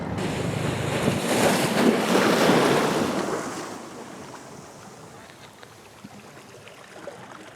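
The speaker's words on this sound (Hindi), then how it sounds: "दूसरी जानिब ये है खुला समंदर" Open sea surf breaks on the shore at Gadani in Balochistan, a loud rushing wash swelling early then receding into softer hiss and wind buffeting the microphone.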